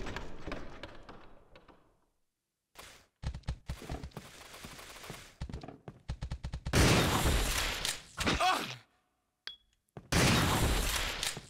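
Gunfire in the video game Resident Evil Zero HD, with rapid bursts and single shots starting and stopping over several seconds, loud and close, followed by two heavy sustained blasts.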